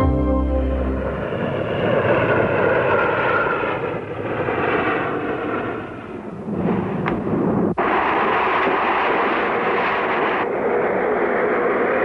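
Lockheed C-130 Hercules engines in a loud, continuous broadband roar that swells and dips slightly, with a sharp thump partway through and no voices.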